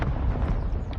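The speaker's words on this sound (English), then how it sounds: "mortar dead. strike incoming." A mortar strike in Modern Warfare 2 lands as a loud, low rumbling blast that fills the whole moment, with dense low-end boom and debris noise and no voices.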